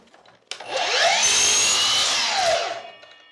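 A power miter saw cuts wainscoting molding for an interior installation. It spins up sharply, holds a loud, whining cut for about two seconds, then winds down.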